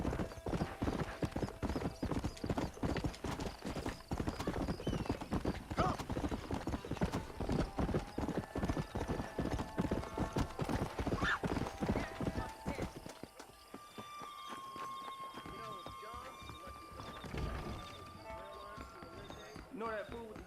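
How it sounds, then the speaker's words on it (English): Rapid rhythmic clip-clop of horse hooves galloping steadily in Red Dead Redemption, loud and close, with a brief whinny; the pace slows and fades into quieter ambient sounds near the end. "I think I might like the horse riding in this more."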